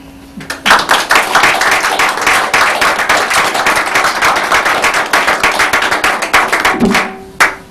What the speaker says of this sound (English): clap two of them together if they liked you